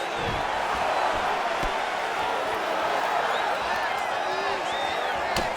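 A simulated arena crowd in the UFC 4 video game, at an Israel Adesanya versus Dricus Du Plessis bout, keeps up a steady, loud roar of oohing and cheering, with a few sharp thuds, as a commentator talks over it.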